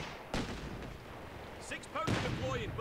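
Gunfire and cannon blasts from the Company of Heroes 3 strategy game, including machine guns and mortars, come as two sharp booming bursts with scattered rattling shots between them. Game voices call out over the fire.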